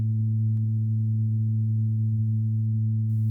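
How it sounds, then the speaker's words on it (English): Steady synthesizer tones run through a vocoder effect, holding sustained low harmonic drones with a pitch shift partway through and a brief noisy burst at the end, no voices. "Now I add the change again and switch on the vocoder effect."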